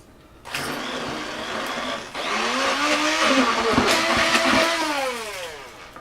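A handheld immersion blender whirs steadily while mixing peanut butter into a chocolate peanut butter pie filling, starting abruptly, then rising into a louder, strained motor drone as the thick mixture churns, close and without talk.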